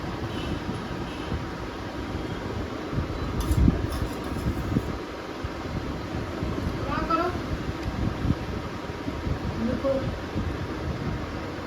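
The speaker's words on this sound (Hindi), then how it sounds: "अपनी पंखा चला दे" An electric fan runs in a home during a power cut, giving a steady broadband whooshing roar that fills the whole clip, close and fairly loud, with a few faint clinks and background voices under it.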